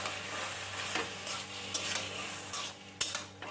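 Taro greens cooking with a hilsa fish head in a pan, stirred with soft scraping and rubbing strokes over a low sizzle, close by, with a couple of sharper knocks of the utensil against the pan.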